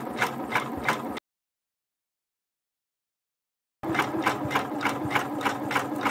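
Janome MB4 embroidery machine stitching a double zigzag underlay for quilt-in-the-hoop applique, a fast rhythmic mechanical chatter with regular pulsing stitches, close and steady, cut by a silent gap of a few seconds before resuming.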